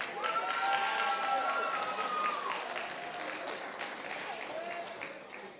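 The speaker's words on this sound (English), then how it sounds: "Please give him a round of applause." Applause from an audience at a Black History Month program, a steady wash of many hands clapping that swells early, eases slightly and carries on, with a voice singing or calling over the start.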